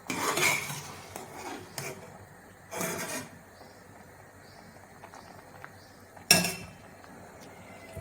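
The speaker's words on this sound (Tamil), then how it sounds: "எடுத்து என்ன பண்ணணும்னா நல்ல இந்த மாதிரி வடிகட்டியில் சேர்த்துடணும்." Boiled kozhukattai dumplings lifted from the pot and dropped into a metal strainer in a home kitchen, a few separate clinks and scraping knocks with quiet gaps between them.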